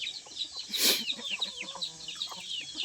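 Farm chickens cluck and chatter in a busy, overlapping stream, fairly close, with one louder squawk early on and little else around them.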